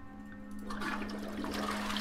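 Toilet flushing in a horror video game, a rushing, swelling flush of water that builds over a steady low hum and fills the short clip, heard close with no speech.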